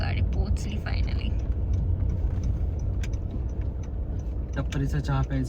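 A car rumbles along the road on a trip from Pune to Solapur, its low engine and road noise steady throughout while people talk inside.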